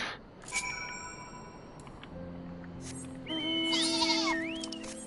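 A sheep in Final Fantasy XIV gives a few electronic bleats, first a brief call and then a longer wavering bleat, heard over the game's steady tonal music.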